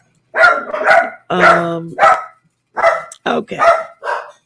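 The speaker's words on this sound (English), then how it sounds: "Pardon me while the dogs bark." Dogs bark in a loud, close burst of sharp barks, one stretched into a brief whine, and a voice briefly speaks between them.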